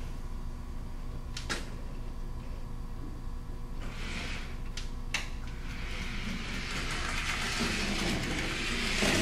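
A model train backs up in a freight yard with a steady rumble and occasional sharp clicks and clacks, growing a little louder toward the end.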